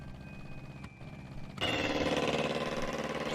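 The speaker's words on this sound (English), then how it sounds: "Is that an engine?" A car engine in the film Harry Potter and the Chamber of Secrets rumbles in abruptly after a quiet stretch, then holds a loud, steady, throbbing drone.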